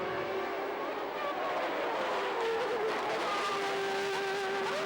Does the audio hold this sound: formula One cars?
yes